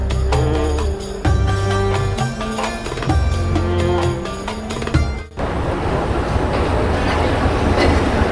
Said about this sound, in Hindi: ट्रेन अपने पूरे टाइम पर स्टेशन पर पहुँच गई है